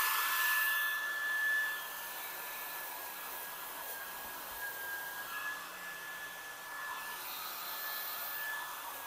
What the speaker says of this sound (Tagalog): So hair blower ang pag-seal ko dito.